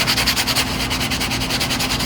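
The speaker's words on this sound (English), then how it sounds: "It gives you a soft sanding block" Fine 1500-grit sandpaper on a soft sanding block rubs back and forth over guitar frets in quick, even strokes, making a close, steady scratchy hiss.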